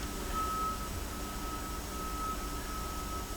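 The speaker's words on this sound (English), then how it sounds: "Swear to God, this bus is so loud. Why do you have to make that sound when you're reversing?" A bus's reversing alarm emits steady, evenly spaced electronic beeps over a constant low engine and road rumble, heard from a moderate distance with no voices.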